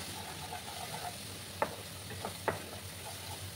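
Spices with Kashmiri chili powder being sautéed in a pan for a boal fish curry with potatoes: a steady soft sizzle with a few sharp spatula scrapes and clinks against the pan.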